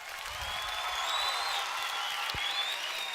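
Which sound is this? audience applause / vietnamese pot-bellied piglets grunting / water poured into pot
audience applause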